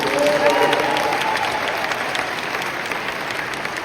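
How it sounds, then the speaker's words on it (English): A dense, steady round of audience applause at an awards event, loud and close, the crowd clapping continuously and tapering slightly toward the end. "Let's give a round of applause for Anuj Gupta"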